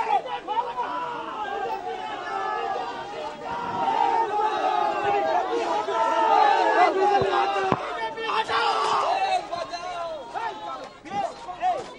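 A dense protest crowd shouts "go back" slogans at Locket Chatterjee during the 2024 Lok Sabha election, loud overlapping voices and chanting, steady and close throughout with a brief dip near the end.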